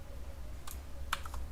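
Java code typed on a computer keyboard, two or three quick key clicks in a short burst, close but quiet over a low steady room hum, with no talking.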